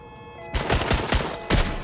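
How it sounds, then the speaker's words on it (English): Gunfire in the Watch Dogs Legion video game, a quick string of four or five sharp, loud shots in an irregular burst, following a brief tonal hum. "Shots fired! Shots fired!"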